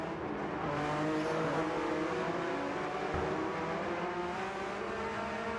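Porsche Cup race cars in a racing game run down a long back straight, a continuous loud engine drone with steady revving and no gaps, heard alone without talk throughout.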